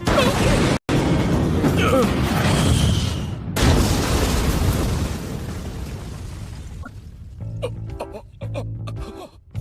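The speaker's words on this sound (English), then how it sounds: "Now send your magic into it and give the trigger a little squeeze." A magic-powered gun fires in an anime scene, a loud booming blast that rolls on for several seconds before fading into quieter clicks and mechanical sounds.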